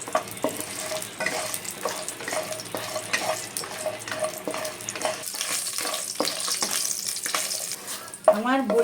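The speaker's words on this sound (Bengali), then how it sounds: "বড়িটা ভাজা হয়ে গেছে" Lentil bori crackle in mustard oil as a utensil repeatedly stirs and scrapes the pan, producing a busy, irregular sizzle with metallic knocks, and a sharp squeaky scrape near the end.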